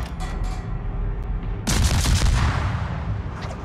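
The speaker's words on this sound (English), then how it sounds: "Concentrate fire on the enemy warship." Heavy naval gunfire from warships in the World of Warships video game, a rumble of booms that swells into a loud, dense broadside salvo partway through, with distant shots continuing after.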